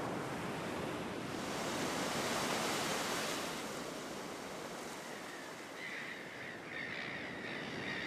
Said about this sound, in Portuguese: as ondas quebram bem perto da praia e cavam barrancos característicos